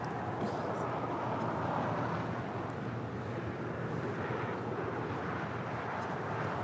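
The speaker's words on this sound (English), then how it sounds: "That was British Airways Flight 282 departing to London Heathrow on the A350-1000." British Airways Airbus A350-1000 departing LAX for London Heathrow, a steady broad jet roar heard from a distance that stays even throughout, with faint wind noise.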